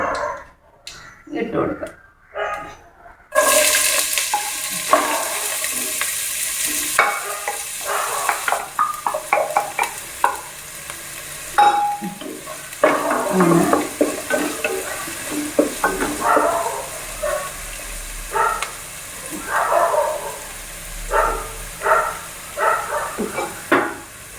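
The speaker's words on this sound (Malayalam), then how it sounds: "അതിലേക്ക് നമുക്ക് ഒരു സവാളയും രണ്ട് മൂന്ന് വെളുത്തുള്ളി കുറച്ച് ചെറിയ ഉള്ളിയും കൂടി കുഞ്ഞായിട്ട് അരിഞ്ഞത്" Chopped onion, garlic and small shallots fry in hot oil while being stirred, a steady sizzle broken by scraping strokes of the spoon, with a dog barking faintly at moments in the background.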